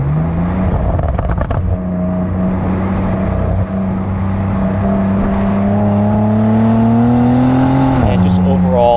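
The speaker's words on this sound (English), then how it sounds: "That's going to open up your exhaust note." A 2022 Bentley Continental GT Speed in sport mode with its exhaust opened up: a loud, close engine note that holds steady, then climbs in pitch as the car accelerates, before easing briefly near the end.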